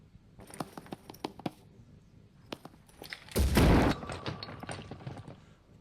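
A weapon fires at range in Phoenix Point, with a quick string of sharp shots followed by a louder, heavier blast lasting about half a second, then scattered smaller clicks and impacts.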